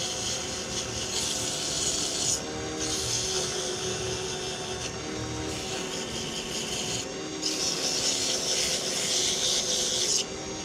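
A wooden pen spinning on a lathe is sanded with 150-grit sandpaper, making a steady close rasping hiss in repeated passes of about two seconds each, separated by short breaks, over the lathe's low hum.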